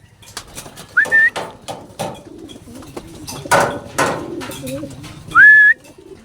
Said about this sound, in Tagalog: Ayan, yung young bird nating isa.